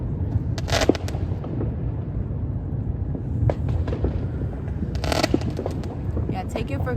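Fireworks burst in a few loud cracking pops against a steady low rumble, with people talking throughout.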